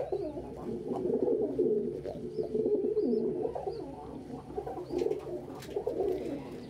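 Pigeons coo softly and repeatedly close by in low, rolling phrases, with a few faint higher chirps in the background and no talking.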